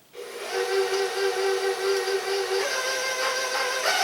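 Electric mixer whirring steadily as it beats cookie dough for apple cookies, a continuous close motor drone with a faint high whine, holding even throughout with no talking.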